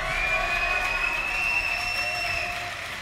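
A crowd at a League of Legends grand final applauds in a steady wash of clapping, loud and sustained throughout, with a faint tonal whine over the top, and no one speaking.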